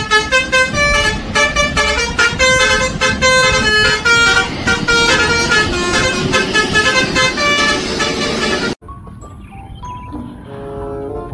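A large Pahala Kencana bus roars past loudly with tonal horn blasts layered over engine noise, then it cuts to a much quieter stretch with faint traffic.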